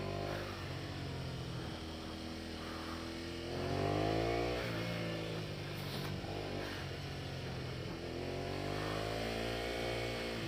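Honda Spada VT250 motorcycle riding, the engine note rising and falling through gears with a swell of revving near the middle, steady and fairly close, no talk.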